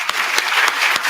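A conference audience gives a round of applause to welcome neighbours, a dense, steady wash of many hands clapping close and loud with no voices over it.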